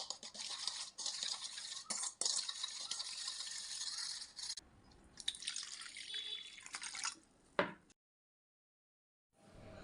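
Baking soda and lemon juice are stirred together into a cleaning solution for a fridge, giving a close, steady scraping and clinking for about eight seconds before it stops and goes quiet.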